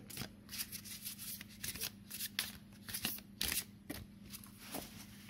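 A brand-new oracle card deck being shuffled by hand, giving a run of quick papery riffles and soft slaps in close, irregular bursts with no talking.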